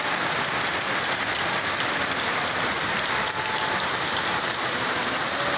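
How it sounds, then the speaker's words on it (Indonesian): Heavy rain pours down in a village during a dark downpour, a dense, constant hiss of drops hitting surfaces that fills the whole stretch at an even level, with no voices. "betapa derasnya hujan kali ini"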